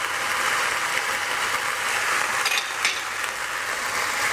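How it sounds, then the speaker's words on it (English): Mustard powder and garlic frying in a pan for a chicken and vegetable pot pie, a steady close sizzle with a couple of brief stirring scrapes. "And just fry that for another couple of minutes."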